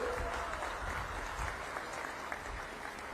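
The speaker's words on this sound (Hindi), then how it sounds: "ताली बजाओ भाई" Rally crowd applauding a guest at a community festival gathering, a dense, continuous round of clapping heard fairly close, with faint crowd murmur beneath.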